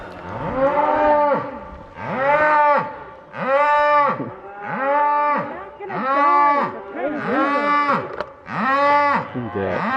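Cows with calves on a hiking trail in Teton Valley, Idaho, give about seven long, loud moos in steady succession, close by, with brief pauses between calls.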